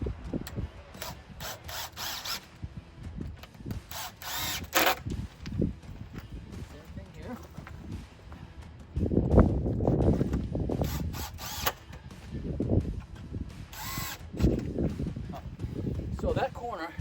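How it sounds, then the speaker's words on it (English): A power driver drives screws back into the wooden frame of a chicken coop under construction, giving repeated whirring, ratcheting bursts between pauses, with a voice talking nearby. "we're going to push this out and reattach those 2 screws in different locations"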